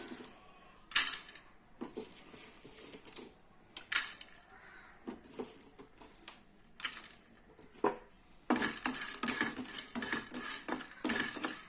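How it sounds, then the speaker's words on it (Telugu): Cloves tipped into a dry pan where thick cinnamon sticks are roasting without oil for instant garam masala, giving scattered light clinks and rattles, then a steady close sizzling crackle of spices toasting. "ఇంకా దీంట్లో లవంగ మొగ్గలు కూడా యాడ్ చేసుకుందాము."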